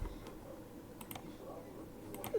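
Faint clicks of a computer keyboard's Enter key during a driving game, two quick pairs of soft taps separated by about a second over a quiet background hum.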